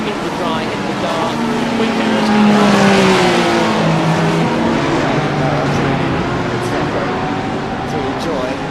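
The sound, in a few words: GT race cars engines in iRacing video game at Watkins Glen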